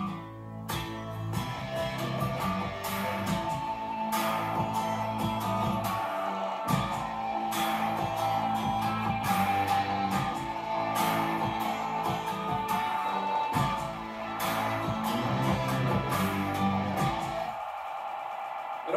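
A full music mix plays for its whole length, a moody trip-hop style track with steady drums, deep bass and layered keys and textures, loud and continuous with no talking.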